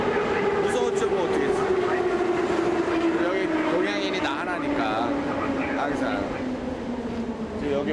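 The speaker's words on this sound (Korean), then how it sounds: "아침 출근길 우크라이나의 수도 키예프의 지하철 안에서" A Kyiv metro subway train during a morning commute: a loud, steady rumble with a sustained droning tone and rattling carriage noise throughout, with voices murmuring faintly underneath.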